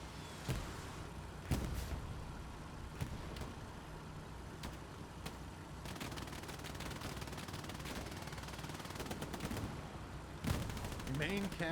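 Hell Let Loose battle scene: sustained rattling machine-gun fire and scattered gunshots over a dense rumble of engines, punctuated by several loud, sharp tank cannon blasts, all fairly distant and continuous.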